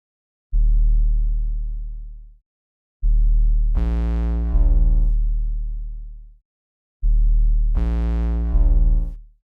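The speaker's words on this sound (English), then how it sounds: "this is what the 808 sounds like" Three long, deep 808 bass drum notes ring out one after another, each sustaining and sliding with a bright, distorted attack before fading.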